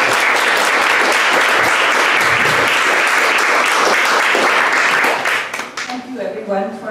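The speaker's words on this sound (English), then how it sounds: "let's welcome her with a warm round of applause" An audience at a youth interfaith group gathering breaks into warm applause welcoming a speaker, dense sustained clapping that fades out near the end as a voice begins talking.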